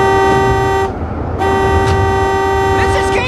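A car horn blares in long, loud sustained honks with a short break between them, close by amid a storm.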